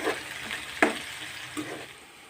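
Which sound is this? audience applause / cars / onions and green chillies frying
onions and green chillies frying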